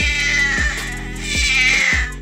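A cat gives a few loud, drawn-out, complaining meows in quick succession, close to the listener with no other sound.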